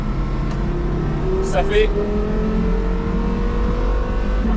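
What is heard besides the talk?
Porsche Carrera GT engine running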